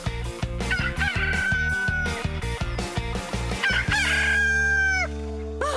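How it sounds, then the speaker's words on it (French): A rooster crows loudly in a Horseland cartoon scene, a drawn-out cock-a-doodle-doo over a busy musical backdrop that then drops to a sustained low chord. "ce coq vient de chanter pour la toute dernière fois"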